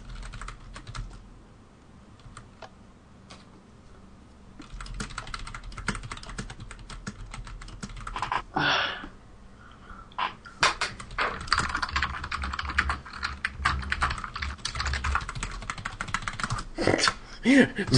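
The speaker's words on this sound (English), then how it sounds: "Just us typing." Typing on a computer keyboard during a livestream, with rapid bursts of clicking keys close by, pausing briefly and then resuming more densely, while people talk quietly underneath.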